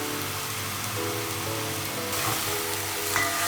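Mutton pieces frying with spices in a hot pan, a dense, even sizzle at close range, steady throughout with a faint low hum beneath and no talking.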